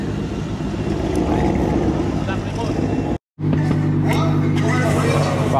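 A BMW G80 M3 at a drag race event thunders nearby with a dense, continuous engine and exhaust roar, briefly cut to silence midway before resuming just as loud; voices may be present beneath the noise.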